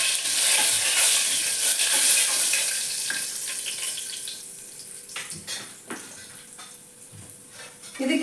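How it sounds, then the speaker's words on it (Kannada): A handful of cashews fry in a pan while being stirred, a close, loud sizzle that fades over the clip, broken by scraping stirs near the end. "ಇದು ಸ್ವಲ್ಪ ಫ್ರೈ ಆಗಲಿ ಗೋಡಂಬಿ"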